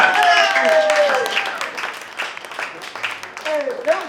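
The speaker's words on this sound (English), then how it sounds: "So you give a round of applause" Audience applause at a December community roast comedy session: dense clapping swells through the middle, with voices and laughter around it, then fades as talk resumes.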